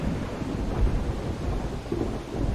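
Steady rain hiss with a low rumble of thunder rolling underneath in Project Zomboid, constant and fairly close, with no voices.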